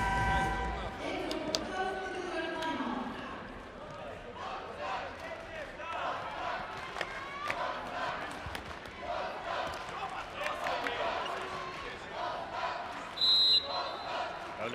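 Volleyball supporters in the arena at a men's World Cup match between Poland and Russia sing and cheer as a steady, dense crowd roar, with a voice talking over it.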